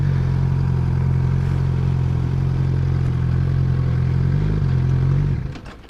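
A Suzuki GSXR motorcycle engine runs loud and close at a steady, rough idle with a clattering tone, then cuts out abruptly near the end.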